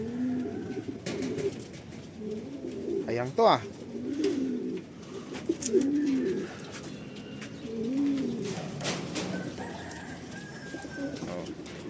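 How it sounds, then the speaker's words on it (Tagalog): Racing pigeons coo repeatedly at the loft as they arrive home from a long race, the soft low calls close by and overlapping with someone talking. "Yung second bird natin oh."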